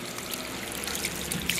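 Water sprays from a hose on a homemade fountain with a continuous, close hiss and splatter, an even trickling rush with small droplet splashes and no talk.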